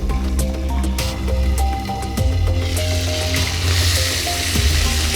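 Pabda fish fry in a covered pan with a steady, bubbling sizzle and occasional pops, running continuously under a backdrop of music.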